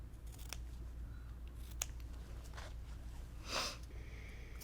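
Scissors snip through fabric triangles for a quilt block, several quiet, sharp cuts spaced irregularly over a low steady hum in a quiet room.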